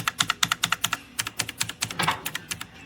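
Quick, crisp clicks from typing on an AULA F2088 typewriter-style mechanical gaming keyboard with blue switches, sharp keystrokes landing in a fast, slightly uneven rhythm, close and alone.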